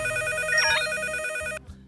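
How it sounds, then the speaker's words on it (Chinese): A telephone rings on a Chinese televised dating show stage, with steady electronic ring tones over background music, fairly loud, then cutting off abruptly near the end. "现在又被电话打断了啊！"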